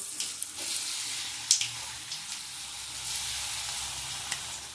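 Soft, steady sizzling and crackling of ground ginger chutney paste frying in oil with curry leaves, with a few faint stirring clinks, fairly quiet and close.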